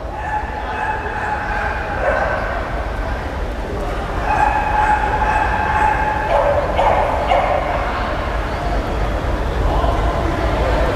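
Dogs bark and yip at a dog show in Vietnam, with repeated short barks over a loud, steady crowd din and voices throughout.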